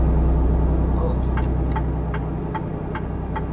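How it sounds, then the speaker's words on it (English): A 2015 Freightliner Cascadia truck engine in the game American Truck Simulator, on a drive from Fresno to San Rafael, gives a loud, steady diesel drone with a faint, regular ticking over it. "Truck sounds pretty nice"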